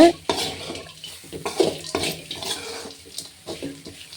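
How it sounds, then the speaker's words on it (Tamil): A spoon scrapes and clinks against a pan while beetroot stir-fry with grated coconut and peanuts is stirred, giving irregular close scraping strokes and soft knocks. "இப்போ கடலையோடு சேர்த்து தேங்காய் பூ பீட்ரூட்டு நல்லா கிளறி விட்டுர்லாங்க"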